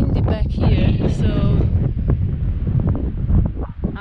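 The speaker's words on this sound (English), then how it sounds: "Wind today is mad." Strong wind buffets the microphone on a coastal clifftop hiking trail in Portugal as a storm approaches, a loud, continuous roar with gusty rumbling throughout.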